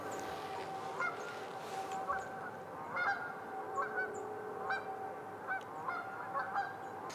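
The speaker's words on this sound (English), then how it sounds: "Those are just ducks." Waterfowl call by a river in repeated nasal honks and quacks, several calls spaced across a steady background of running water, moderately near and without talking.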